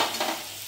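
Coriander, ginger, garlic and coconut paste sizzles in hot oil while being stirred for a ridge gourd bhaji, a brief close crackle with a stirring scrape, no talk.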